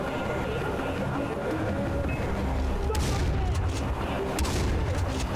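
Two sharp gunshots crack out in Far Cry 4 in snowy mountain terrain, over a loud, dense rumbling background.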